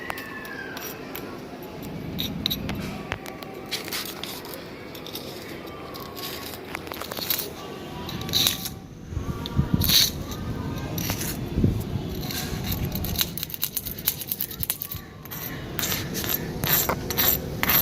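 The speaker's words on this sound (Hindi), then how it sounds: "चटपटी की तरह की आवाज़ें तो आ रही हैं मगर आग नहीं लग रही" A spoon scrapes and grinds against a powdery mixture of sugar and potassium permanganate on the ground, producing irregular crackling and rasping sounds that swell and fade throughout, without igniting.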